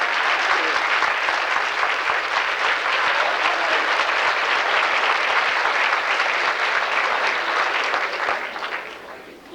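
Theater audience giving task force members a warm round of applause, dense continuous clapping from a full house, loud and steady for several seconds before tapering off at the end.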